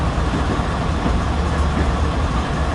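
A freight train runs in Train Simulator 2013 on Marias Pass, giving a steady, dense rumble of engine and rolling wagons that holds constant and fairly close with no talk.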